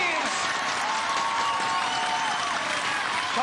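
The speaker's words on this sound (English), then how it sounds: "All you can do is applaud it at times." A crowd applauds a rally in the AVP Atlanta 2008 men's beach volleyball final: loud, dense, continuous clapping with cheering, steady from start to finish.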